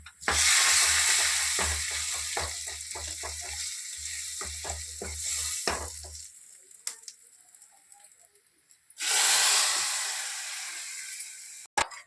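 Dried red chillies and curry leaves crackle and sizzle hard in hot oil, a close, loud burst of popping and spattering that dies away to quiet and then flares up again in a second rush.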